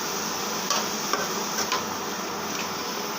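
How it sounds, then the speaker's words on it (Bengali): Cabbage and potatoes fry in a pan, a steady sizzle broken by a few sharp scrapes and taps as a utensil stirs against the metal. "ভেজে নেব পাতাকপিটা ভালো করে।"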